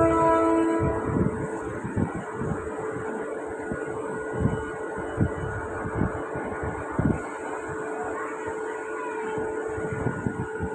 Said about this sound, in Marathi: 4:18 की खोपोली जाने वाली सीधी लोकल थोड़ी सी समय में प्लेटफॉर्म क्रमांक 4